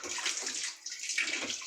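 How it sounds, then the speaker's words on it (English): Water pours and splashes onto the surface of a freshwater fish pond, a close, light, uneven spattering that swells and dips over a short stretch. "Allow the water to beat on the surface."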